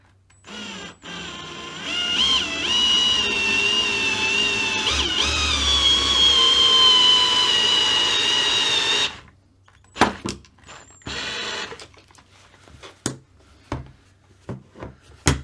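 A power drill whirs steadily for several seconds with a high whine while working on Kyosho GT2 RC car alloy front upper arms, then stops, followed by scattered clicks and knocks.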